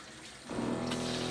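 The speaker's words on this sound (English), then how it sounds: "All right, so you can turn the water on right here." Water gushes from a hot tap in a camper van's shower, fed by an electric pump; a quieter trickle opens into a steady, close, full rush that carries on to the end.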